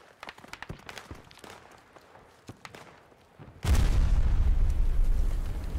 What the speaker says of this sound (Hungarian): Mi volt ez a négy robbanás?